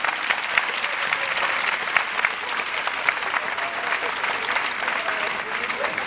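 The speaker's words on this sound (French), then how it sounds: "Je voudrais qu'on applaudisse le théâtre Tourski." A crowd at the Toursky theatre in Marseille applauds warmly during an event against female genital mutilation, a dense, sustained roar of clapping hands with occasional louder individual claps and a murmur of voices beneath.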